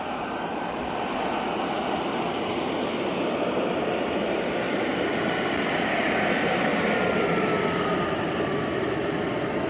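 A giant radio-controlled T-38 Talon scale jet flies past during a Scale Masters practice flight, its turbine a steady, loud rushing whine that holds throughout with a faint high tone sweeping across it, and no talk.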